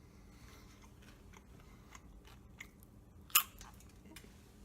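Someone bites into a crunchy vegan snack, with soft irregular crunching and one sharp, louder crack, heard close up with no talking.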